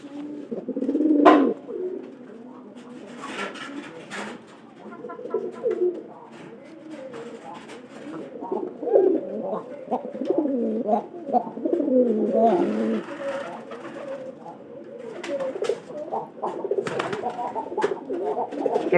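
Pigeons coo again and again in soft, throaty runs over a long stretch, with faint scattered voices in the background.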